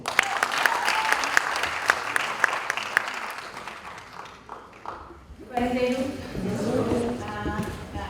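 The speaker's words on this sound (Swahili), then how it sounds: "tupigie makofi" Applause from an audience at a music launch event, crisp claps rattling along for several seconds and fading; a person then starts talking loudly close by.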